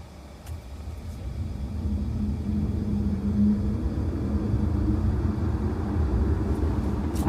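A BYD Sealion 7 electric car is driven in sport mode, heard from the cabin as a steady low road rumble and faint whine that swells gradually as it speeds up, with no voices.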